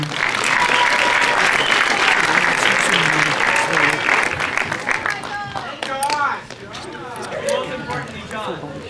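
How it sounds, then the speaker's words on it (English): Applause for a praise band at a high school chapel service, dense clapping that thins out after about five seconds as talking voices and chatter take over. "Let's give a round of applause for our praise band there today."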